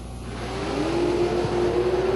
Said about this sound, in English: Nice wheel stand for the Camaro